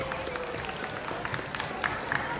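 Thin, scattered clapping from a school audience after a Zapin Lenggang Kipas dance performance, faint and uneven against a murmuring crowd, with a few louder claps near the end.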